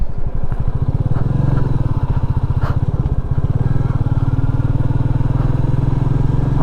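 A 2021 Royal Enfield Meteor 350 single-cylinder motorcycle runs close by, a loud, steady thumping engine note with a fast regular pulse throughout, a brief rev change partway through.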